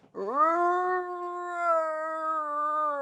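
A human voice imitates a monkey's howl near a tree house, producing a single sustained, tonal call that holds steady for about three seconds in a quiet setting.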